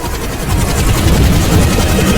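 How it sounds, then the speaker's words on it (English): Loud, close rotor thumping of a helicopter flying overhead near the Egyptian pyramids, a steady rapid chop with heavy low engine rumble throughout. "Zahe, do you hear some helicopters?"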